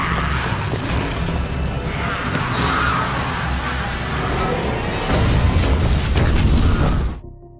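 A loud, dense rumble in a zombie horror film, continuous low booming and mechanical crashing around a car that swells louder near the end, then cuts off abruptly.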